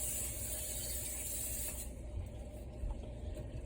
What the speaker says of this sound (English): So I'm going to spray my pan down so it'll be easy to scoop out.